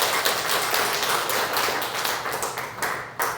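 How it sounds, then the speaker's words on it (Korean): A Korean church congregation claps after a special song performed by a guitar group, a busy, steady patter of many hands that thins briefly near the end. "다시 한번 큰 박수로"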